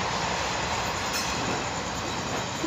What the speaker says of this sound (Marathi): बघू शकता आपलं ट्रेन वरनं जाते